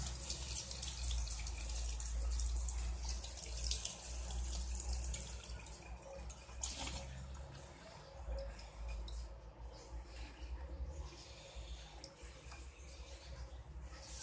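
Water trickling from a household tap, a steady low wash with faint dripping and splashing, moderately loud and continuous.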